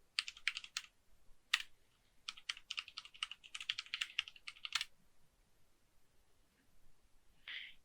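Quick bursts of key taps on a computer keyboard, clustered in short runs with brief pauses, close and fairly quiet, ending in a final single press after a short gap.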